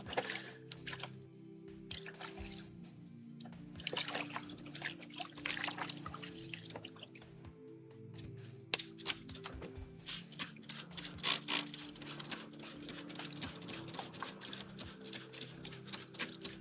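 Hands being washed in dirty, soapy water, with soft wet squishing, dripping and trickling that come close and quiet in an uneven rhythm, with no talk.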